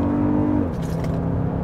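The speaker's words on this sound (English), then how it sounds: "So you get a little rumble of the engine there." A Toyota Grand Highlander Hybrid Max switched into sport mode gives a low, steady engine rumble heard from inside the cabin, with a humming tone that drops in pitch partway through, loud and continuous, with no talking.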